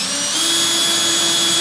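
A power drill drives small cap screws during a custom floor build, giving a brief, steady high motor whine that holds evenly for under two seconds.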